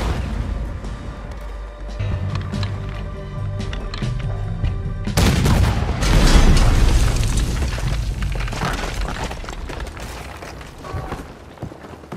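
Heavy booming cannon fire erupts in Red Dead Redemption 2 aboard a ship, a loud deep blast that rolls into sustained rumbling chaos over continuous background battle noise.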